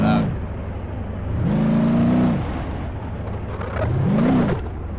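Simulated car engine in the BeamNG.drive demo revving in three loud surges, pitch rising and falling with each, with people talking over it.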